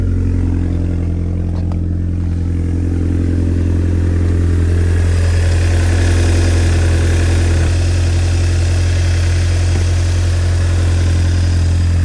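A 2008 Audi B6 A4 or 2006 Acura RSX Type-S engine after start-up, idling with a loud, steady low rumble and constant vibration throughout, no talking.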